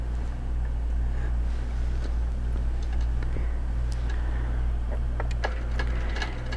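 A QBOT quilting machine stitches out a pattern with a steady, close mechanical hum and faint ticking clicks running throughout, no voices.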